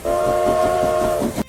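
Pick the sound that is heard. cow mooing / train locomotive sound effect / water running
train locomotive sound effect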